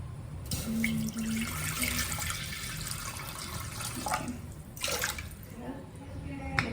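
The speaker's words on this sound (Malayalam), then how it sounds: "എന്നിട്ട് അതിലേക്ക് വെള്ളം ഒഴിക്കണം." Water pours steadily into a pressure cooker close by, a continuous splashing stream with a few clinks of the vessel.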